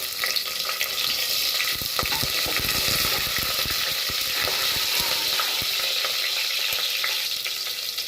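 Cumin, pepper and cracked green chilies sizzle and crackle steadily in hot oil, with a bright, continuous fry interrupted by occasional stirring clicks and scrapes.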